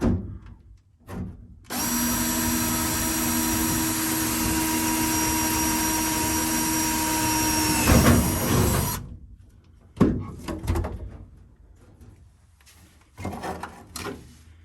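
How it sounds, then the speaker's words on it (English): A 90-degree right-angle drill whines at a steady high pitch for several seconds, then stops, followed by a few short clunks and bursts of drilling holes through a top plate on a 1968 Camaro trunk firewall. "drill a couple of holes through that top plate up there"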